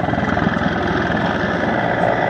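A Czech Air Force Mi-17 helicopter flies at the Duxford Battle of Britain Airshow, a loud, continuous rotor thrum and turbine roar held steady and close throughout.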